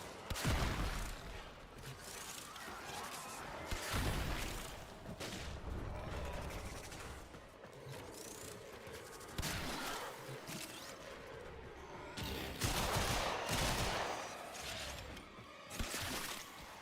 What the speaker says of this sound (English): I'm shooting on the barrels because I want energy things out of them